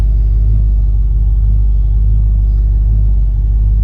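A 1967 Mercury Cougar engine idling steadily, a loud, close, deep rumble with an even low throb and no voices.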